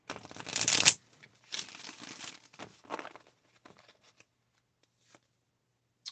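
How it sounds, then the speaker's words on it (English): A deck of cards is riffled up close, a loud burst followed by a few softer shuffling bursts and scattered card snaps, then near silence. "we're going to shuffle these one more time"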